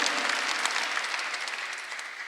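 A Korean church congregation claps together during a Sunday worship service, a short, bright burst of many hands at moderate level that tapers slightly toward the end.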